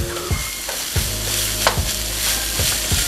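Ground beef, mushrooms and onions fry in a pan with a bright steady sizzle, punctuated by rhythmic knocks and scrapes of stirring about every second, close and loud.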